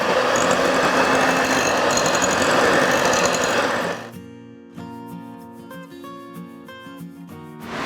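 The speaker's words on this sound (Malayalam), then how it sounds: "ഇതിനെ നന്നായിട്ട് നമ്മളൊന്ന് ബീറ്റ് ചെയ്തെടുക്കാം." An electric mixer beats velvet cake batter with a loud, steady, close whirring buzz for about four seconds, then stops, leaving background music playing alone.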